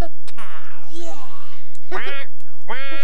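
A children's puppet duck quacks in a few bright, nasal bursts spread across a few seconds, close and clear, mixed with voice-like sounds.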